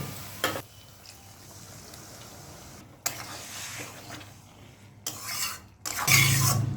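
Spices being stirred in a pan after water is added, with bursts of sizzling and scraping spoon strokes separated by quieter pauses, close and fairly soft.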